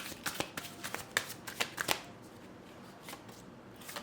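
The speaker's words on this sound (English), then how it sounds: "Let's pull out some more cards." Tarot cards are shuffled in a quick run of crisp, close riffling flicks, clustered in the first two seconds and then thinning to a few soft taps in a quiet room.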